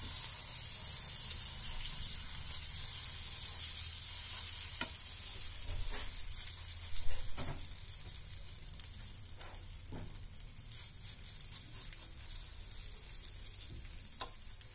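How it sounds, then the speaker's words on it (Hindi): Black chickpea mixture frying in a little oil on a hot griddle over a medium-low flame gives a steady, soft sizzle and hiss, with a few faint clicks and scrapes mixed in. "तो जैसे ही तवा गर्म होता है उसमें हम तेल डाल देंगे।"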